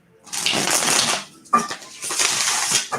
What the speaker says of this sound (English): Shuffling up a little bit.